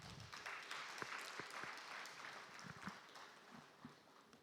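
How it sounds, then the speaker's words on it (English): An audience at an agriculture conference session in Abuja, Nigeria applauds with a steady, faint patter of clapping heard from a distance, a few sharper claps standing out before it tapers off. "Can I have a round of applause for us?"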